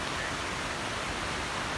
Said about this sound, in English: Look at those waterfalls.